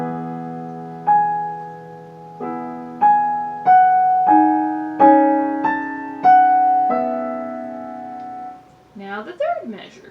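Piano plays a single measure from the Adagio Sostenuto of Rachmaninov's Piano Concerto No. 2: seven or eight separate chords struck over held low notes, each one ringing out and fading. A brief spoken word comes at the very end.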